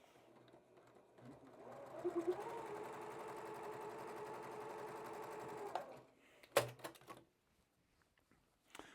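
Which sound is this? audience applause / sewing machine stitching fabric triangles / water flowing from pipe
sewing machine stitching fabric triangles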